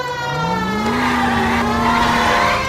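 A car tearing along at speed in the video game LA Noire, its engine loud and close, revving with a rising pitch and holding a steady high drone throughout.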